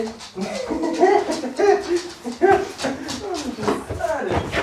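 Dog whimpering and yipping in excited greeting indoors, repeated high whines close by, mixed with people talking over it.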